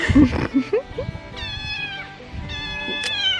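A little kitten meows outdoors several times, close and fairly loud, with high drawn-out cries spread through the moment and a few other brief sounds near the start.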